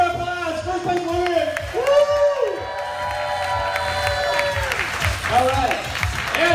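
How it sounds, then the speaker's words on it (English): Audience at a Renton City Comic Con costume contest applauds and cheers for the winner, steady clapping with whoops and crowd noise, while an announcer's voice talks over it. "All right, let's give her applause."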